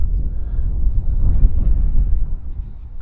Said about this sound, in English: That wind's all over the shop.